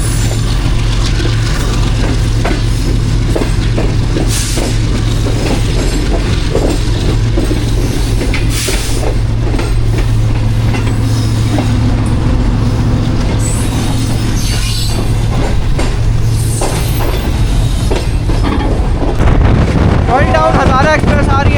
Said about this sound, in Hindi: डाउन हज़ारा एक्सप्रेस आ रही है जी।